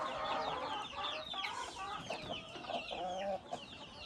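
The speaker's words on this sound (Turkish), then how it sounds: "iki tane tavuğumuzu attık" Several chickens cluck and squawk close by in a coop, a busy, overlapping chorus, steady throughout with no talking.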